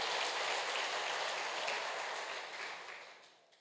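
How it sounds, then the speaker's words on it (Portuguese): Church congregation applauding the Messiah, a dense, steady roar of clapping that holds strong, then fades out over the final second. "dê um aplauso bem forte ao Messias"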